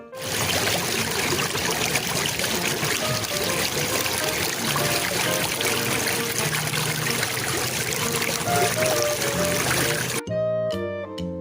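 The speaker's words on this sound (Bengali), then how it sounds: "ফোয়ারা হতে জল পড়ে" Water falls from a fountain in a loud, continuous splashing rush with a faint tune beneath it, then cuts off into a short burst of music.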